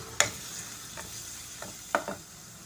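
Asafoetida dropped into sizzling onions in a pan of hot oil, with a steady low hiss broken by a few sharp clinks of a spoon against the pan.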